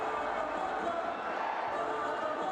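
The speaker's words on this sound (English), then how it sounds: "And the crowd loves it." Basketball crowd at a FIBA World Cup 2023 qualifier between Brazil and Colombia in Franca, Brazil, cheering after a three-pointer, a steady dense roar of voices sustained evenly throughout.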